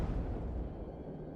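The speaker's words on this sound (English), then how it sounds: "The Republic forces have triggered an explosion, preventing you and your allies from continuing your search." A deep, rumbling explosion in the Star Wars: The Old Republic video game, a dense low boom that fills the short moment and fades slightly, with no talking over it.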